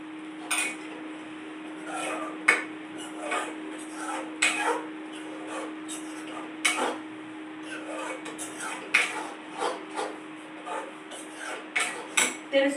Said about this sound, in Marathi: आपला मसाला हा छानच भाजून द्यायचा आपल्याला